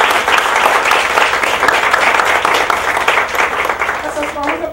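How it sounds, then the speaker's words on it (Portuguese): An audience at a university lecture on employability applauds with a steady, dense wash of many hands clapping at close range, sustained evenly throughout. "Palmas para a administração."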